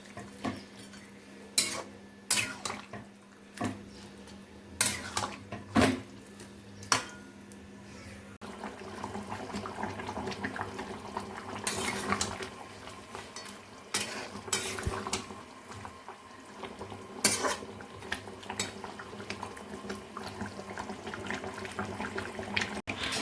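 Biryani meat is stirred and mixed with ginger-garlic paste and chillies in a pot, with a spoon repeatedly scraping and clinking against the metal over a faint background sizzle, in sharp irregular strokes.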